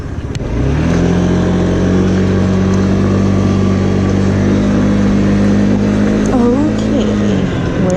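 A Honda Metro scooter fitted with a big bore kit is ridden, its engine rising in pitch at the start and then holding a loud, steady drone close by, with a brief pitch wobble near the end.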